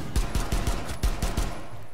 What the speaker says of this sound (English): Shoot that wall with your shotgun.